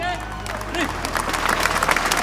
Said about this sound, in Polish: Wielkie brawa, proszę Państwa.